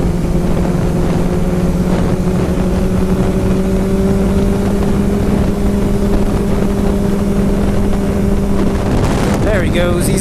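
A Ducati 1199 Panigale S motorcycle on the highway, its engine a loud continuous drone with steady tones and heavy wind rush throughout, a brief shift near the end.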